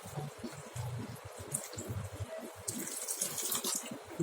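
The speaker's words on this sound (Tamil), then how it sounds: "கூட கொஞ்சமாக தண்ணி விடணும்." Water pours in a short, splashing stream into a home cooking pot of vegetables and black-eyed peas, a little at a time, close and fairly quiet with faint background noise.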